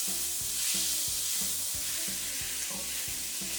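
Spring onion whites and chicken sizzle steadily in a hot pan, a continuous frying hiss with rhythmic scraping strokes of stirring repeating about every half second, close and fairly loud with no talking.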